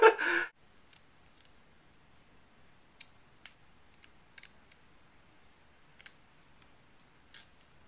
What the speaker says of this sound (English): Okay, so I've cut off all the lace